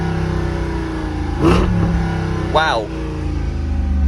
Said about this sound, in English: if I click this little on button right there, it says performance exhaust on, and now listen.